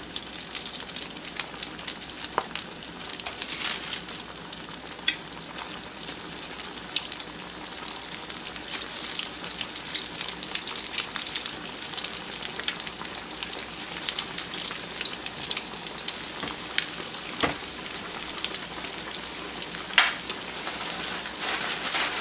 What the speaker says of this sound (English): I've got my grease getting hot, fixing to get them in the skillet.